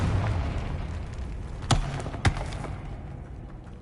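Two sharp explosive bursts from the Confringo spell in the video game Hogwarts Legacy, about half a second apart, each a sudden loud crack over low game ambience.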